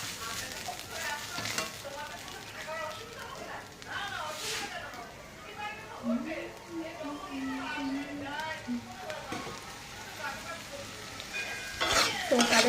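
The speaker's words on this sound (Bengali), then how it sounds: "এই যে পেঁয়াজ কালি আলু দিয়ে ভাজা হচ্ছে।" Onion stalks frying with potatoes in a home kitchen pan: a steady, fairly quiet sizzle with occasional stirring scrapes, while a voice is heard faintly in the background.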